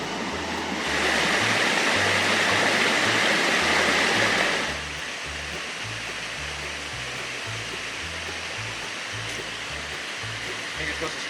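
Raven Cliff Falls roars as a steady, broadband rush of falling water, louder and closer for a few seconds before settling into a constant, slightly softer torrent.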